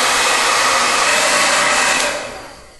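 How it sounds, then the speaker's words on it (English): A blow dryer blasting air over hair with a continuous loud, even rushing whoosh close to the mic, fading away at the end as it is switched off or pulled aside. "I put the diffuser attachment onto the blow dryer"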